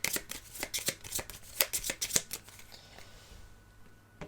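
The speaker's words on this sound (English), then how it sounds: "And then we're going to shuffle this deck" A deck of cards is shuffled by hand during a solo tabletop game of Aeon's End: Astro Knights, giving crisp, quick riffling snaps for about two seconds that then fade into quiet shuffling.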